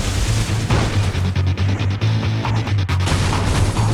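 Car crashes in the racing video game Burnout Revenge, loud continuous smashing and crunching bursts over a droning engine hum, dense and relentless throughout with no speech.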